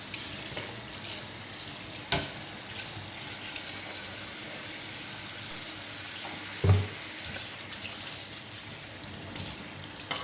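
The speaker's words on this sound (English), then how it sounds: "we will need to use water and soap to clean this part" Water runs steadily from a tap while a mosquito trap part is washed with soap, a constant hissing splash with a couple of sharp knocks as the part is handled.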